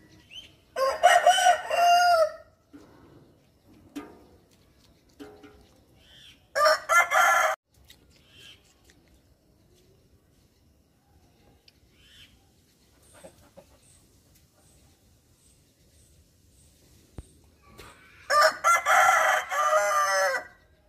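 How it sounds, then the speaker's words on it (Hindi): Two desi roosters crow loudly three times, with long quiet gaps between the calls; faint clucking from hens and small bird chirps sit in the background. "ये देखो दो मुर्गे हमारे पास दोनों का कंपटीशन चल रहा है कौन ज़्यादा आवाज़ निकाल रहा है"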